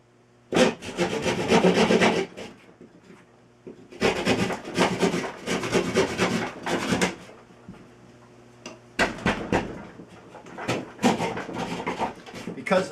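A blind mark drywall tool cutting through drywall near a stud, rasping in three long bursts of rapid scraping strokes separated by short pauses, close and loud with no talk.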